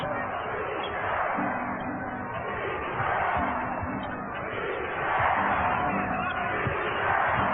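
Crowd noise at a Lakers versus Kings NBA basketball game in Sacramento, a steady roaring arena din that swells and rises toward the end, with cheering and a few faint thuds beneath.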